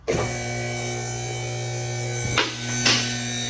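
A vehicle lift hoists a Ford with a 3.0 engine in a garage. Its electric motor gives a steady, fairly loud buzzing hum, broken by a couple of brief clunks near the end.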